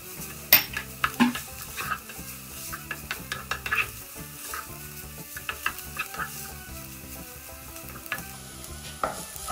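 Two cloves of garlic frying in a pan, stirred with a utensil: steady sizzling under frequent close clicks and scrapes of utensil against the pan, alone without talk.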